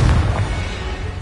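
A Confringo fire-blast spell goes off in the Hogwarts Legacy video game: a brief, loud, low boom that opens strongly and rolls off over about a second.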